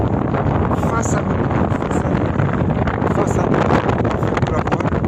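A strong headwind of at least 20 knots roars across a sailboat heading toward Santa Pola near Cabo Negro, a dense, constant blast of wind against the microphone with no breaks.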